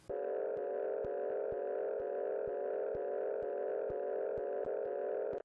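A looped synth pad chord held steady and washed in Fruity Convolver reverb, sustaining evenly throughout with faint regular clicks marking each repeat, no voices over it.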